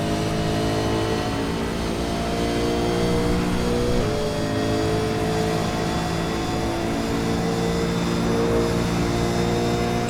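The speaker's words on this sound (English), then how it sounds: "I just love watching the cars come around that bend in turn 1." Supercars in the iRacing sim race around the Imola circuit, a loud, steady engine drone holding throughout with a slight shift in pitch midway as cars sweep through the bend.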